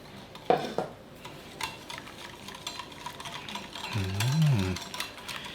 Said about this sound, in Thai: ใส่ลงไปแล้วก็คนไปเรื่อย ๆ ได้เลยครับ